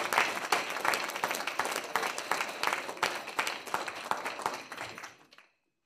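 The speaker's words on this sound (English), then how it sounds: "Again, another round of applause for our students." An audience applauds at a university board of trustees meeting, a dense, steady round of many hands clapping at close range that carries on for about five seconds before quickly dying away to silence.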